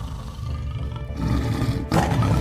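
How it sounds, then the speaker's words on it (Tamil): A tiger's deep, rumbling roar rolls on continuously, loud and close, building in intensity and swelling again near the end, with no voices over it. "புலியோட சத்தம் கேக்குது"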